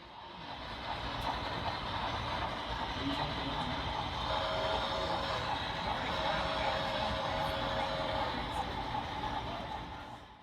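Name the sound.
model trains running on layout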